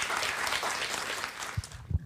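Continuous applause from an audience at a book talk, steady and full with a couple of louder thumps near the end.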